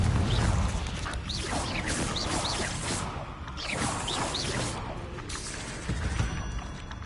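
Fiery spell blasts from the Confringo curse in Hogwarts Legacy, a run of whooshing bursts and crackling impacts over dense game ambience, with several swelling waves across the stretch.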